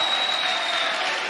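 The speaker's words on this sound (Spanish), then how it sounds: "Aplaude al Rey de Gloria" Church congregation clapping together in praise, a brief, dense wash of applause at steady loudness with a faint tone running through it.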